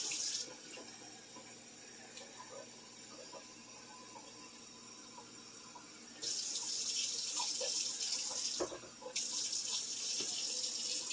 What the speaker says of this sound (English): 2 cups of cold water